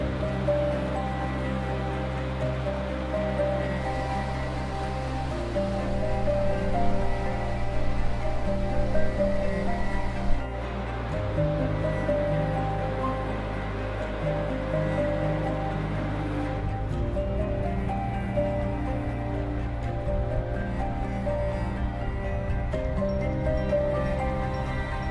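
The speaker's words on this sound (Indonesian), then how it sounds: "kita boleh dengar bunyi air mengalir dekat bawah gua ni" Water rushes and gurgles continuously through a cave in Perlis, Malaysia, flowing underground toward the Perlis River, echoing in the enclosed space, a steady low flowing sound with no voices.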